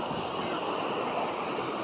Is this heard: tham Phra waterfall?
yes